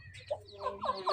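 A hen clucks softly at close range, giving a few short throaty calls in quick succession.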